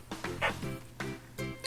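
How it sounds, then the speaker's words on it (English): Zero the dog barking, several sharp barks and yips in an uneven rhythm over a low steady hum, fairly clear rather than far off. "they heard Zero barking in the distance"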